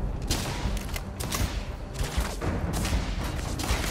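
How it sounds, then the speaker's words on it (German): Enemies open fire on the player in the game Starfield, producing a steady stream of loud gunshots and bursts with booming impacts, continuous and fairly close. "Mama, die schießen auf mich"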